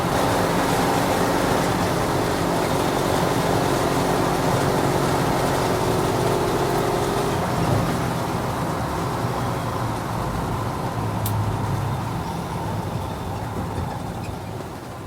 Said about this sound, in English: Now you get to see the other side of this truck going down the freeway.